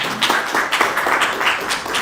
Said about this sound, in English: please let's give an applause to her